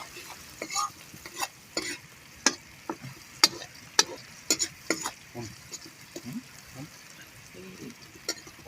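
Onions fry in a pan with a soft background sizzle while a utensil scrapes and taps the pan in irregular strokes, close and moderately loud.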